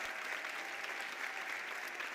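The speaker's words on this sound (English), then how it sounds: "So let's just give them a round of applause." Steady audience applause at a dance performance event, a dense even patter of many hands clapping throughout, moderately distant and without talk.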